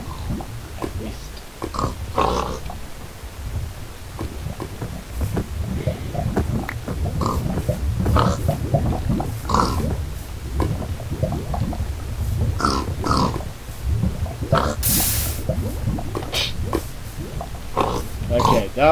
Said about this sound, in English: Oh, jeez, that pig was stupid.